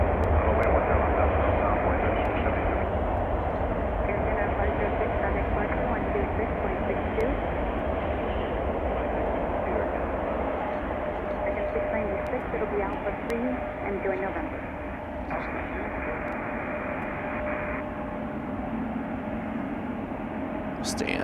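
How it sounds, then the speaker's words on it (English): An Atlas Air cargo plane roars down runway 9 center at Chicago O'Hare on takeoff, a broad, steady engine rumble heard from a distance that fades slightly toward the end. "I think we're going to lose this Atlas Air behind everything, but it's zooming down 9 center here."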